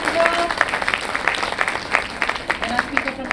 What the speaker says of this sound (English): Can we have a big round of applause for Jolene, Sandra,